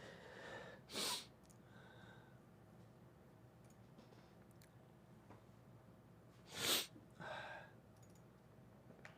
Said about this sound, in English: I'm gonna keep sneezing too.